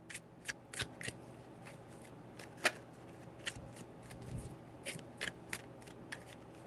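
Tarot cards shuffled by hand in a quiet room, a series of sharp, crisp riffling snaps at irregular intervals, close and clear with no talking.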